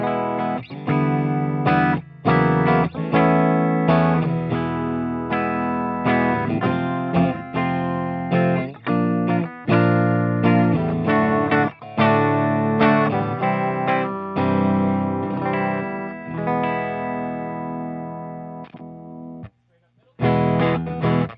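Electric guitar, an Aria Pro II XR on its middle single-coil pickup, with a bright, thinner tone, strummed chords and picked notes played continuously with light effects, briefly cutting out near the end.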